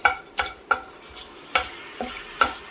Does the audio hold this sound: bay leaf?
yes